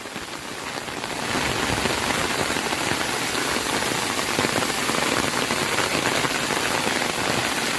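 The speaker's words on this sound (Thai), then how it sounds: "ฝนตกแรงมากนะคะ" Heavy rain pours down at a waterfall in Kanchanaburi, Thailand, swelling within the first second into a loud, dense, unbroken hiss of drops that continues steadily with no voices.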